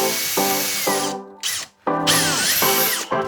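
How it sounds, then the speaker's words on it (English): Power drill boring pocket holes through a Kreg jig into a wooden rail, several loud whirring bursts that rise and fall with brief pauses between, close and alone. "I use a Kreg jig to drill the holes for the rail."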